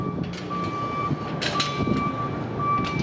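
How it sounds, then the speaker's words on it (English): Vehicle rumble with sharp clacks and snaps as a San Francisco Muni trolley bus passes under an overhead wire switch, plus intermittent steady tonal beeping. "But we're gonna get some good trolley bus switch action."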